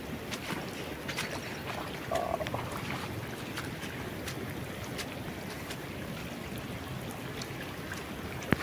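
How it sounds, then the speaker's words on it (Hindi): Rainwater rushes fast through an outdoor channel during a downpour, a steady, dense broadband wash of flowing water that runs unbroken throughout, close and moderately loud, with no talking. "ये पानी बहुत स्पीड से पानी आ रहा है, ऊपर से देखो।"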